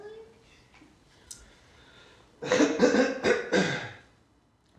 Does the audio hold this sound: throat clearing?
yes